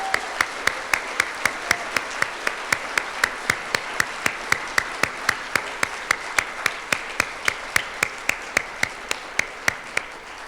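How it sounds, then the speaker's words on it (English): Applause for the Miller family at a community benefit bash, a room of people clapping steadily, with one close, loud clapper beating a fast, regular rhythm above the general crowd. "So if we could just first applause to the Miller family"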